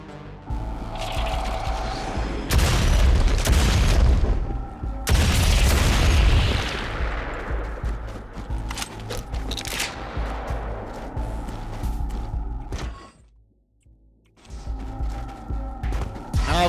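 Mortar gun in the video game Project Warlock II firing heavy booming blasts, several loud explosive bursts with rumbling tails and scattered crackling, a brief silent gap near the end before the noise resumes.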